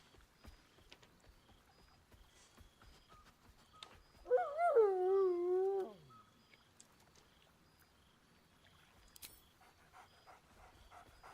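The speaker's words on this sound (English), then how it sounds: "Scratch barks merrily in something like agreement." A dog in Baldur's Gate 3 gives one drawn-out, whining vocal lasting under two seconds that falls in pitch at the end, standing alone against a quiet background.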